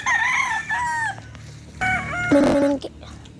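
Several chickens cluck and squawk up close in short, broken bursts with brief pauses between calls.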